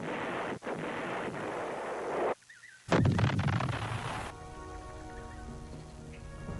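Heavy artillery fire from Vietnam War combat booms out in loud, rumbling bursts, with a sharp gap of near silence before another roaring blast that trails into a lower sustained rumble.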